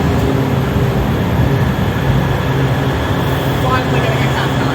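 A newer CAF Type 9 MBTA Green Line train rides between Boylston and Copley, giving a loud, steady rumble and rolling roar with no pauses throughout.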